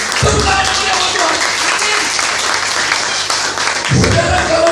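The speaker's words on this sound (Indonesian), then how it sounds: "Tepuk tangan buat Tuhan." A congregation at an evangelistic church rally in Surabaya claps, a loud, dense burst of applause filling the whole stretch, with low thumps and voices mixed in.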